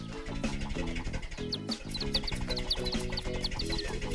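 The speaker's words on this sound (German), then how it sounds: "Schau Ethan, da ist ein Loch im Hühnerkäfig." Cartoon chickens cluck and chicks peep in a chicken coop with a hole in it, repeated close calls over a steady backdrop of bright, bouncy music.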